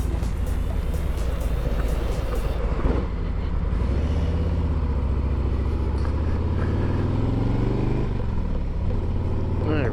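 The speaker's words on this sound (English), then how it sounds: "A lot of traffic for 2 o'clock on a Friday." Steady road traffic heard on a Friday afternoon ride, a continuous loud rumble of passing cars and engines, with a rising engine whine partway through and the rider talking over it.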